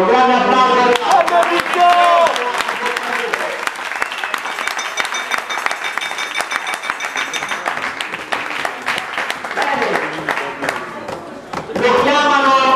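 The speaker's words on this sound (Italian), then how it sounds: "E un applauso diciamo doppio a Tagliato per la sua purtroppo sfortunata carriera" A live audience breaks into a dense, sustained round of applause for a player at a veterans' event, with a voice speaking over it at the start and again as it fades at the end.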